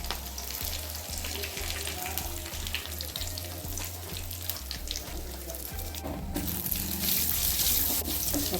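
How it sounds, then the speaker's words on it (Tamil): Mustard seeds, cumin, curry leaves and dried red chilies sizzle in hot oil while a Tamil pongal kuzhambu is being tempered. The frying is loud and steady, with a crackling hiss that continues without a break. "எண்ணெய் சூடாயிடுச்சு. கடுகு சீரகமும் இதில் சேர்த்துக்கிறோம். இந்த கருவேப்பிலை சேர்த்துக்கிறோம். இந்த வரமிளகாய் சேர்த்துக்கிறோம்."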